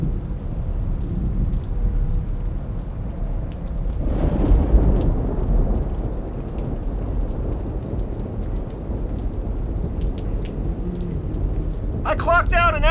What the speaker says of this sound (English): Storm scaring the loonies.